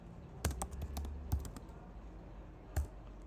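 Computer keyboard being typed on at a desk, a short string of soft clicking keystrokes with gaps between them, quiet and close, with no talking.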